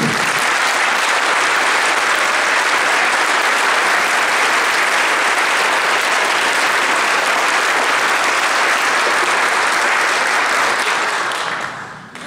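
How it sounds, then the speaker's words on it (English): Spring band concert audience applauding graduating seniors, loud sustained clapping that fills the room evenly for about twelve seconds before tailing off. "please, one more round of applause for the seniors of 2013"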